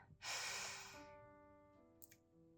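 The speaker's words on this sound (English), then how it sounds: "So we're going to begin with 3 big breaths, breathing in fully" During a guided breathing exercise, a single deep, forceful inhale rushes in near the microphone, then fades into a slow, quiet tail over soft background tones.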